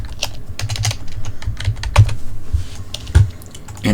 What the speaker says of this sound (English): I'm going to take my name and type in